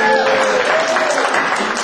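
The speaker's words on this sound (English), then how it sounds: "By applause." A stand-up comedy audience at a Purim show claps briefly, a moderately loud patter of applause with some voices mixed in.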